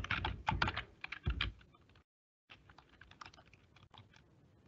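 Typing on a computer keyboard in Microsoft 365 Planner, with close rapid clicky keystrokes in bursts, a short pause, then lighter scattered taps and no talk.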